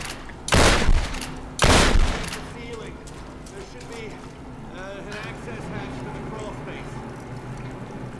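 Two loud, close shotgun blasts in Tomb Raider Definitive Edition about a second apart, each with a booming tail, followed by quieter game ambience with a voice over it.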